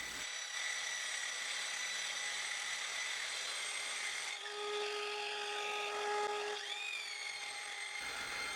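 A Porter Cable Restorer sanding plywood, a steady high whining motor with gritty abrasive hiss, close and continuous, its pitch shifting partway as load changes.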